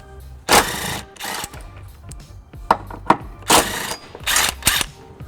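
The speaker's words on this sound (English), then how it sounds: "I've got a 14mm socket and I'm going to remove these 2 bolts." A 14mm socket wrench ratchets at the tow hook bolts of a 2000 Lexus RX300, giving several short bursts of rapid clicking separated by pauses and light metal knocks, close and fairly loud.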